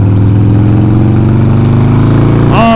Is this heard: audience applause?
no